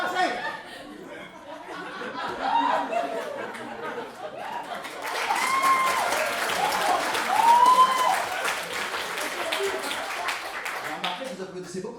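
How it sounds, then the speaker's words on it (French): A theatre audience at a French comedy sketch claps in a rising wave of applause mixed with chuckles and laughter, while a performer's voice carries over the crowd. "Vous applaudissez beaucoup avec vos mains."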